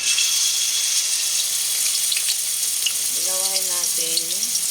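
Eggplant frying in hot cooking oil, with a steady, loud hiss of oil throughout and a brief voice entering near the end.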